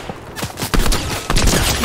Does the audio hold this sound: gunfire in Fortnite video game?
yes